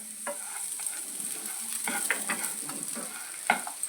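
Cumin seeds, garlic cloves and a piece of ginger fry in a pan for coconut chutney, giving a crisp sizzle with spatula scrapes and stirring taps, loudest near the end, and no voices.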